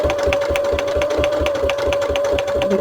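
A sewing machine stitches through an altered book page in a steady, rapid mechanical rhythm, running continuously at close range with a constant whine beneath the needle's repeated clatter.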